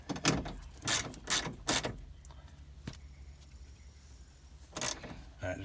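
A ratchet tightens bolts on a Ford window regulator in a few short bursts of close, metallic clicking, separated by quiet pauses and one more burst near the end.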